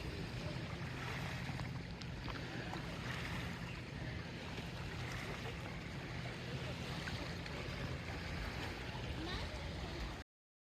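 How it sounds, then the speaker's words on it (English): Motorboat passing on open water, a steady broad wash of engine and water noise under wind buffeting, continuous and fairly close for the full stretch. "boat coming by."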